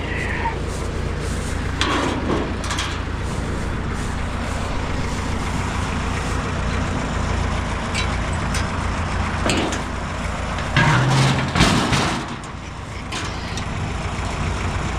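Farm tractor engine running steadily while repositioning a hay rake after first cutting, a loud continuous diesel drone with a brief louder surge and clunk near the end.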